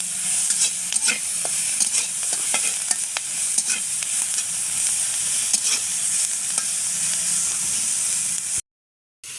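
Gourd flowers, bean flowers and beans fry in a hot pan with a constant loud sizzle, punctuated by clicks and scrapes of stirring, until the sound cuts off abruptly near the end.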